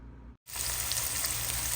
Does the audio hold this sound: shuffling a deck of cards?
no